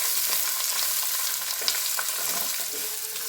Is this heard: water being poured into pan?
no